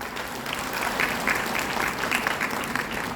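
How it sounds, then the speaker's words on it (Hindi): Audience applause at a Chhattisgarh lecture event, a moderate crowd clapping evenly and continuously at a modest distance, faint and steady throughout. "तो कम से कम इन माझी जी के लिए एक ताली तो बनती है"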